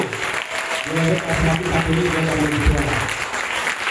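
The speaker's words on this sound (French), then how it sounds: "Est-ce qu'on peut acclamer le président" An audience in a church seminar hall applauds the president, giving steady, loud sustained clapping that fills the room, with a voice murmuring faintly beneath.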